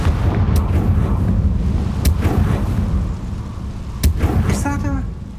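Hogwarts Legacy's Confringo blasting spell lets out a loud booming explosion with a sharp crack, then another burst a few seconds later, and a short voiced sound comes near the end.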